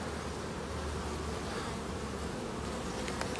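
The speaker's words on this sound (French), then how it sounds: "Les abeilles sont toutes dehors." A swarm of honeybees buzzing outside their hive on an October day, a dense, continuous close-up drone of many wings with no talking.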